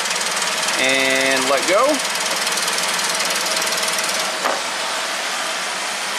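A Jeep Rubicon engine runs steadily during an intake cam phaser test, its loud mechanical drone carrying a brief rising-and-falling tonal sweep early on, with someone speaking briefly over it.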